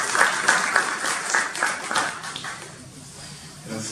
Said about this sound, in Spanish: Un fuerte aplauso, por favor, para nuestra organización.